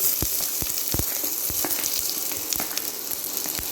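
Onions fry in hot oil in a kadai for an egg gravy, a close, steady sizzle with sharp pops and crackles scattered throughout, and no voices.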